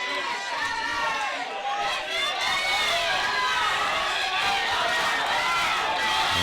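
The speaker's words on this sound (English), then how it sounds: "As you can hear the crowd get behind him." A crowd at a high school powerlifting nationals cheers and shouts continuously behind a lifter during a squat attempt, a dense, loud wash of voices filling the whole stretch with no pause.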